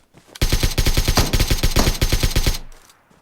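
Rapid automatic AK rifle fire in PUBG Mobile, a continuous burst of sharp shots in fast, even rhythm, loud and close, for about two seconds before fading.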